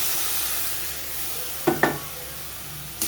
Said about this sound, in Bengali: ফোড়নের সাথে কিছুক্ষণ আমি নেড়ে চেড়ে দিলাম আমটাকে